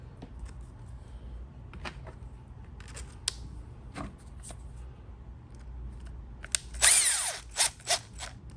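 A power drill drives a screw into a Traxxas XMaxx Bigfoot RC truck: light handling clicks, then a short whirring burst followed by a few brief trigger pulses, close by.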